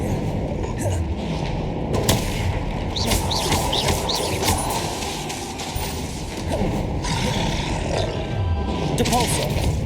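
Dense fantasy combat effects from Hogwarts Legacy as the Confringo spell is cast: a continuous layer of booming blasts, rumbles and crackling bursts, loud and busy throughout, with a voice faintly mixed in.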